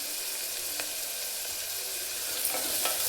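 Onions frying in oil with salt for a bottle gourd kurma, giving a steady broad sizzle with a few brief stirring scrapes, close and alone with no talk.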